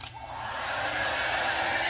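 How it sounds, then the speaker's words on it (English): A handheld blow dryer switches on and runs with a steady, loud whooshing roar, drying a freshly sprayed decorative paper tag for mixed media craft. "then I bring my blow dryer"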